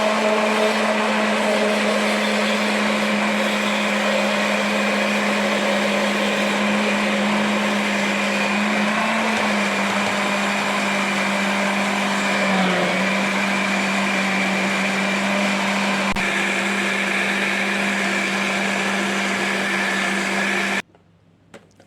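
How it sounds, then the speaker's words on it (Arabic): An electric blender whirs steadily and loudly for about twenty seconds, churning a luncheon meat mixture thickened with starch and flour, its motor tone holding nearly constant before cutting off abruptly near the end. "ضربنا بقى الخليط بالشكل ده"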